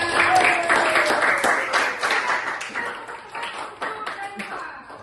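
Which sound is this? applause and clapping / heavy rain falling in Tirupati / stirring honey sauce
applause and clapping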